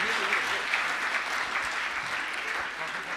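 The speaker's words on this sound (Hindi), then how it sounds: "तालियां बजा दीजिएगा यश के लिए" An audience at a Hindi poetry gathering (kavi sammelan) claps steadily and warmly, a sustained burst of applause filling the room without pause.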